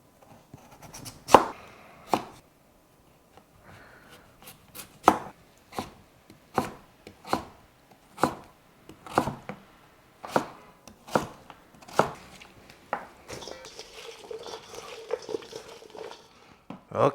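Knife chopping daikon radish and nira greens on a board, a steady run of about a dozen sharp, separate cuts spaced roughly a second apart, close and clear, with a softer rustle of handling toward the end.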